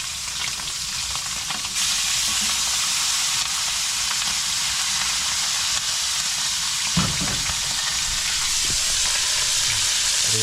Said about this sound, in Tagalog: hintayin lang po natin mapirito